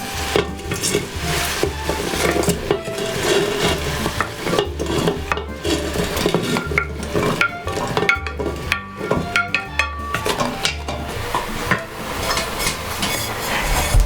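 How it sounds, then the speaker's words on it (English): Chopped parsnips, potatoes and onion tumble into an Instant Pot for Irish stew, a loud, close, continuous clatter and rustle of pieces landing and shifting, with no talking. "I'm going to throw this all right in the pot."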